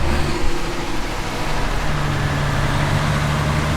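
A truck engine on a CAT machine rumbles steadily at close range, a continuous low drone with little change in level, no voices over it.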